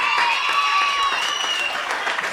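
Steady crowd applause at a school quiz competition, continuous and fairly loud, with cheering or whistling tones and some voices over it.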